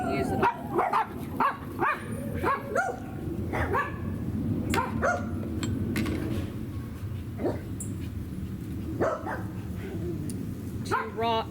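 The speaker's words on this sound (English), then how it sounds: "3 loud dogs and 1 loud airplane" Three loud dogs bark and yip repeatedly in bursts close by at an outdoor camp cooking spot, with whimpers between barks and a steady background rumble.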